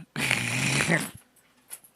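A dog gives one rough, breathy growl about a second long, close and fairly loud, followed by quiet with faint small noises.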